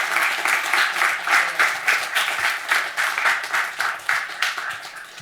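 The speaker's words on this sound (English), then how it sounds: "So please give them a round of applause." Applause from an audience at the closing remarks of an international dialogue event, a dense, steady patter of many hands clapping that carries on alone and eases slightly toward the end.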